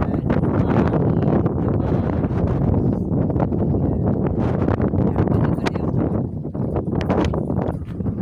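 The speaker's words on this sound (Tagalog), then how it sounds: "Grabe ang hangin." Strong gusty wind outdoors by the sea with big waves, buffeting the microphone in a loud, continuous roar that surges and dips throughout.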